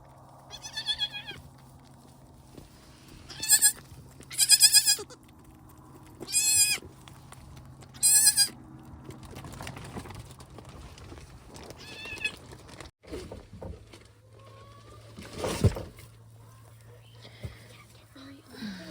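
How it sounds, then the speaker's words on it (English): Goats bleating on a homestead during a birth, several loud harmonic calls in a row near the start followed by quieter, scattered sounds and a later sharp burst. "Mama, I'm feeding a goat."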